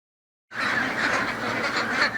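Ducks quacking in a dense, continuous chorus at Crescent Duck Farm, a Long Island duck farm in Aquebogue. The flock is loud and steady from start to finish with no talk.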